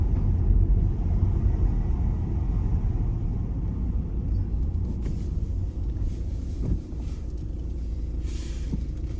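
A car drives at night along a coast road on Guernsey, a steady low engine and road rumble heard from inside, continuous and fairly loud with no talking.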